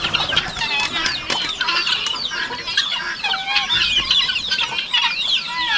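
Many chickens cluck and squawk busily at once, a dense, lively flock chattering continuously at close range.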